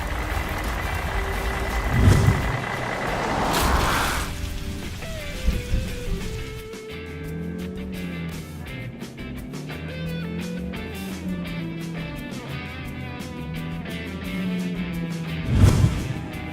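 A cartoon garbage truck rumbles along amid mechanical clanks and whirs, with a thudding impact at the start and another near the end.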